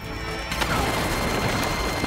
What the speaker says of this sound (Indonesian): sebuah bom ranjau langsung meledak menewaskan dua anggota MI6